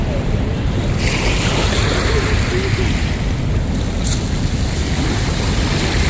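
Waves at high tide wash steadily onto Dolomite Beach on Manila Bay, a continuous loud surf roar mixed with heavy wind buffeting on the microphone.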